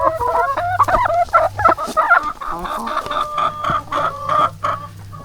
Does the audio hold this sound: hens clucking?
yes